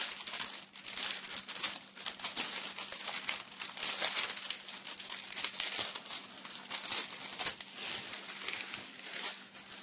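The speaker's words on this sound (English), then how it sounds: "So we start peeling it back gently." Metallic leaf is peeled back gently from a leather surface, giving a faint, close, continuous crinkling and fine tearing texture with small irregular crackles throughout and no voices.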